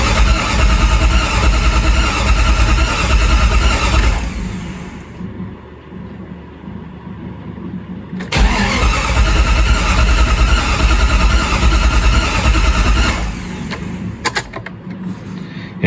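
A 1997 Jeep Grand Cherokee engine cranking loudly and steadily after a fuel pump replacement, grinding for several seconds, pausing, then cranking again without catching.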